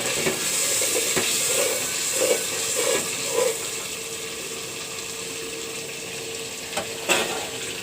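Spice paste for hilsa fish is sautéed and stirred in a pan, with a steady close sizzle and a few rhythmic scraping strokes early on, then continuous frying with occasional clinks.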